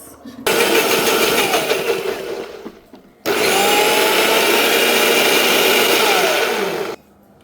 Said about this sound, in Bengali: এখন আসেন আমরা ব্লেন্ড করব